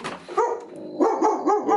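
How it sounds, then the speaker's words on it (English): A dog barks close by in a quick run of short, loud, yappy barks that come one after another with no speech. "Oh, hello doggy."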